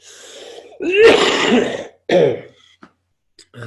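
A person clears their throat harshly and coughs a couple of times up close, followed by quiet with small clicks.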